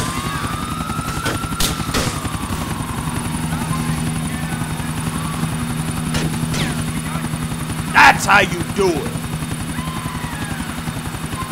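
A helicopter's steady rotor drone and whine runs throughout in a video game, with a few sharp bangs and crashes; someone speaks briefly over it.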